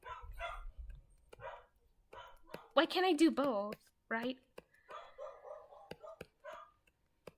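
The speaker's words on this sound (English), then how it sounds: "Sorry if you guys hear my dog." A pet dog barks and yips in short, sharp bursts close by at home, breaking through a person's ongoing casual talk.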